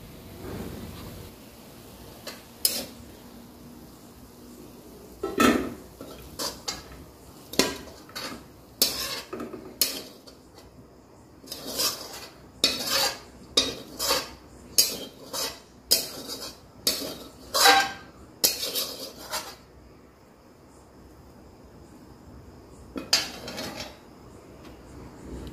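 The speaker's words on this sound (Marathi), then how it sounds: "उपवासाची बटाट्याची चटणी ही एका भांड्यात काढून घेऊया आपण." A spoon scrapes potato chutney for fasting out of a metal pan into a bowl: a close series of irregular scraping clinks and knocks with short quiet gaps between them.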